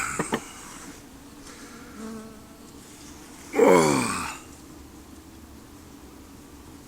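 Honeybees at an open hive give a faint, steady hum, with one louder rising buzz as a bee passes close by the microphone midway through.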